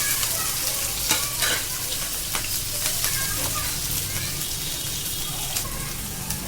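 Finely chopped onion frying in hot oil in a pan on a gas stove, a loud dense continuous sizzle with scattered crackles and occasional stirring scrapes, close up with no one speaking.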